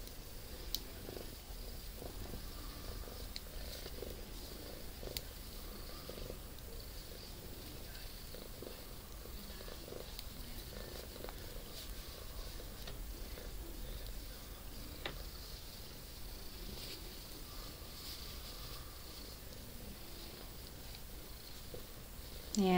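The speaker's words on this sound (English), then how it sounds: "There goes the purr engine." A cat purrs softly and steadily close by in a quiet indoor spot, a low continuous rumble with faint ticking and rustling over it.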